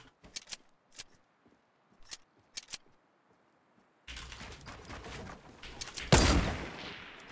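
Accidental gunfire in the Fortnite video game: a few sharp, separate shots in the first few seconds, then a dense, loud burst of game sound with one strong blast near the end.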